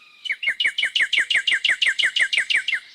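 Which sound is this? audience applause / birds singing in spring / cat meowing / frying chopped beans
birds singing in spring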